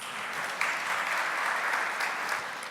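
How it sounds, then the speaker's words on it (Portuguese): At a medical congress, the audience welcomes the speakers with brief, steady applause, a continuous moderate patter of many hands clapping. "Peço que os recebam com uma salva de palmas."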